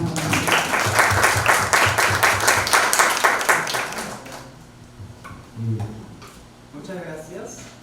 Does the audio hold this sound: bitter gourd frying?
no